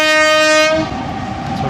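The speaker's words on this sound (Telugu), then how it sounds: "58 టన్నెల్స్ మధ్యలోంచి వస్తుంది అనమాట ఈ ట్రైన్." Train running from Vizag to Araku through tunnels, its horn blaring loud and close for under a second before giving way to a rumbling rush of wheels on rails.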